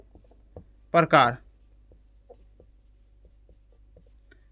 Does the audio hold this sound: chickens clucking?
no